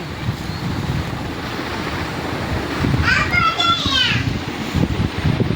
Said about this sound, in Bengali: এই যে বাতাস আসছে একবারে।